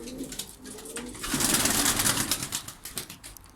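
Performance play pigeons coo softly inside their coop in Ankara, a close, murmuring chorus with a brief flutter of wings.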